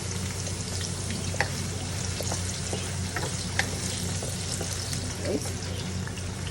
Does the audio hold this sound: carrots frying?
yes